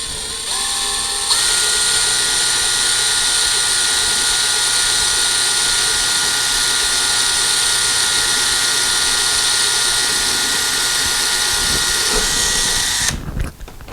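A power drill bores a small pilot hole in a door for fitting a cat door, whining loud and close at a steady pitch for about twelve seconds before spinning down and stopping.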